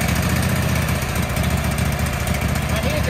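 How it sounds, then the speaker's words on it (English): WoodMizer LT15 portable sawmill engine cold starting in below-freezing weather, a steady loud low rumble running throughout without a break, with no talk over it. "Should be able to start it without the choke,"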